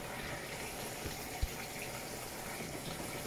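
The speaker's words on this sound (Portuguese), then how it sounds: "temos vários barulhinhos de água" Electrolux top-load washing machine filling with water on a heavy cycle, a steady broadband rush of water running continuously into the drum, moderately loud, with one brief knock partway through and no talking.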